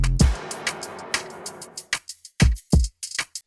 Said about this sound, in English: Then we have this kind of cool little crash thing.